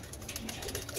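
Soft cooing of pigeons in a backyard loft of about twenty birds, a brief low murmuring coo close by amid faint ambient noise.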